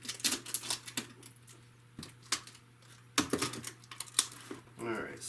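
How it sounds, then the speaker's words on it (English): Scissors snipping at twist ties on boxed toy packaging, with a few sharp, close clicks and snips spread out under a low electrical hum, and a person speaking briefly near the end. "we're going to cut around and free up these twist ties"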